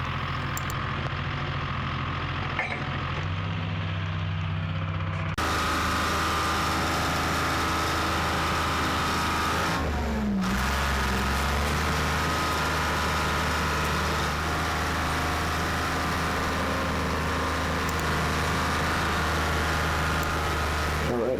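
A vintage skidder engine runs steadily in deep snow while firewood is gathered, a loud continuous low rumble that shifts in pitch partway through, with a brief dip near the middle.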